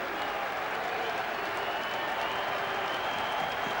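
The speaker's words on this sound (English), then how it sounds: "As Granger gets applause and walks sadly away" Football crowd applauding in a stadium as a sent-off Kidderminster player walks away during a 1994/95 Torquay United tie; broad, steady clapping and crowd noise fills the whole stretch at a consistent level.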